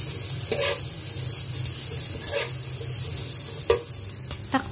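Pork added back into a pan with onions for Filipino ginataan laing, sizzling steadily with several short scraping stirs, close and clear, with no talking.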